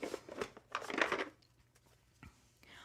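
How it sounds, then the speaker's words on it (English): Tarot cards being shuffled: a quiet burst of papery riffling and crinkling in the first second and a half, then a few faint card taps, no talk. "All right, I am shuffling."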